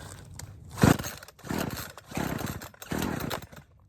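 An old Craftsman chainsaw that sat unused for years sputters into life, giving a few short rough bursts of small two-stroke engine noise with brief gaps between, fairly faint and close.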